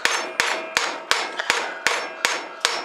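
Hammer blows land on bent RC car drive shafts for a Traxxas X-Maxx laid on a flat, solid surface: eight sharp, close metallic strikes at a steady rhythm, with no voices.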